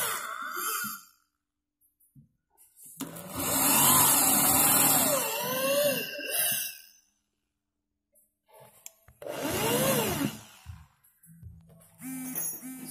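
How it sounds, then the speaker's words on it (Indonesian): Power drill boring holes into a kitchen cabinet partition to mount a dish rack, heard as a brief whir and then two longer loud bursts with the motor pitch rising and falling, separated by quiet pauses. "Kita lanjut dengan lubang bagian sekat yang sebelahnya. Caranya sama seperti yang tadi. Digiri dulu biar tidak meleset."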